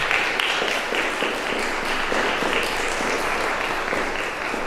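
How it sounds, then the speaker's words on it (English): A conference audience applauds a keynote speaker, a steady dense wash of many hands clapping that holds at an even level throughout with no voices over it. "Let's give Jacob van der Roost another round of applause"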